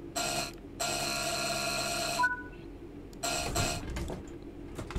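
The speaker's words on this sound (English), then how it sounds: "And two on the buzzer." A train guard's cab buzzer on the Glossop line in the Train Sim World 3 game. Two loud, steady electronic buzzes sound, the second much longer, followed by a shorter third buzz after a pause, over quiet cab rumble.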